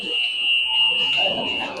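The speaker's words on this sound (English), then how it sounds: "That apparently is our buzzer." A hockey arena game buzzer blares as one steady, loud electronic tone for the whole moment, with a faint crowd murmur beneath it.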